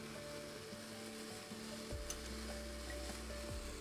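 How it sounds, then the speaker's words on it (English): Paprika, cumin, coriander and a cinnamon quill sizzle softly in a hot pan while being stirred, a faint steady crackle with low hum and a few utensil knocks. "we want to mix everything around to make sure the spices get a little bit of that heat"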